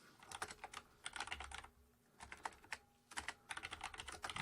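A template being typed on a computer keyboard, heard as quick, close runs of crisp key clicks in three bursts with short pauses between them, quiet and with no speech.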